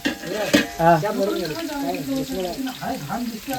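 Oil sizzles and spatters in a pan as something is stirred, with a person talking steadily over the frying.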